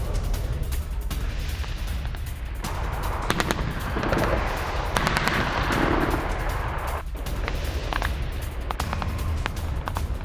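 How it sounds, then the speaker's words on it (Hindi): Russian forces fire on Ukrainian positions in a sustained, loud barrage of overlapping gunshots and heavier booms that runs steadily for about ten seconds, with no voices. "रूस की यूक्रेनी पोजीशंस पर फायरिंग।"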